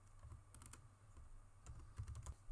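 Quiet, close-up typing on a computer keyboard while editing code, with irregular clusters of key clicks and a denser flurry near the end.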